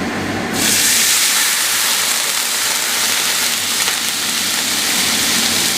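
Half a cup of white wine poured into a hot pan of sautéed, lightly caramelized shallot sets off a sudden loud, steady sizzling hiss that holds close and strong to the end.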